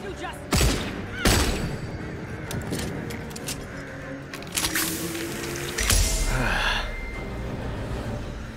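Sharp handgun shots ring out one at a time in a video game, a few spaced cracks over a rumbling game soundscape with a voice faintly present.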